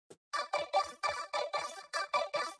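A synthetic, robotic vocoded tone made from a kick drum, chopped by an arpeggiator into about nine quick, evenly spaced pulses, like a stepping arpeggio, fairly loud and alone.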